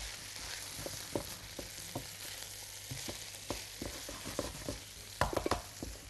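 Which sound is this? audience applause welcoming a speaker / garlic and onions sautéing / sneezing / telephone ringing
garlic and onions sautéing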